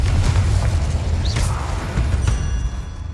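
Confringo explosive spell cast in the Hogwarts Legacy game, a dense booming rumble with a bright whooshing burst in the middle, loud and close, surrounded by continuous combat noise.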